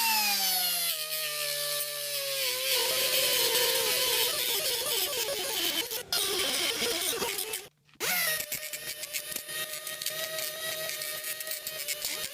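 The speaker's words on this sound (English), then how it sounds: "I use a die grinder with a metal cutting disc to add that fake hammer work to each rune." A die grinder with a metal cutting disc carves hammered texture into runes on a metal cuff: a rising motor whine spins up, then gives way to continuous close, harsh grinding with a brief cut-out near the end.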